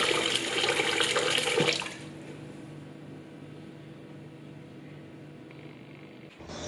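Tap water pouring loudly while soaked sticky rice is washed, a dense rushing splash that cuts off after about two seconds, leaving a quiet hum and faint handling noises.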